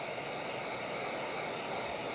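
A heat gun blows a steady, broadband hiss of hot air onto 3M Crystalline tint film on an Audi R8 front windshield, loud and unbroken, with no talking.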